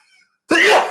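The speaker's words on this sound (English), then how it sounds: "I gotta sneeze again." A single loud, close sneeze bursts out sharply after a moment of near silence, spreading broadband and holding briefly before trailing off.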